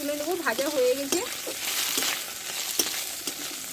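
Steady crackling sizzle of a crushed fish head frying in hot oil, with a brief voice-like tone at the start and a few clicks of stirring.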